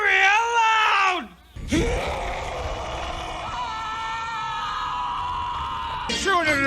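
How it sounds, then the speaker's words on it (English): Several voices let out loud, sustained screams and yells together, with a brief pause and a sharp gasp before a long shared howl that trails into another burst of yelling. "whenever anyone says the secret word, scream real loud!"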